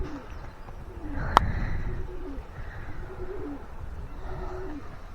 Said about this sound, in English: Just full of pigeons right now.